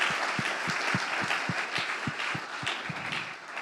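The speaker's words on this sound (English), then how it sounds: "I think Edmund also deserves an applause" An audience applauds at a member opening conversation in Accra, a broadband wash of many hands with a steady low thumping rhythm, moderately loud and sustained, with no talk over it.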